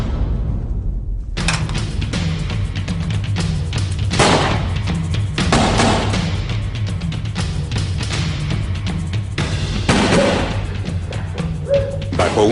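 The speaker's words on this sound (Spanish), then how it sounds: "Bajo una lluvia de disparos, Tintín y el capitán intentan escapar de los" Loud gunfire cracks out in scattered bursts, mixed with heavy thuds and booms in a busy, chaotic exchange.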